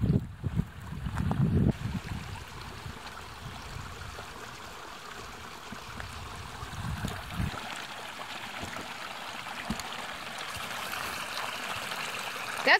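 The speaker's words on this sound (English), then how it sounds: "we have a source of water, running water" Running water from a stream trickles and washes by a gravel beach at a Canadian campsite, a steady moderate rush with some bumps and handling noises early on.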